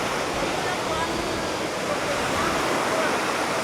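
Tukuran Falls, a waterfall in Oriental Mindoro, roars as a dense, steady rush of falling water, loud and close with no break for the whole moment.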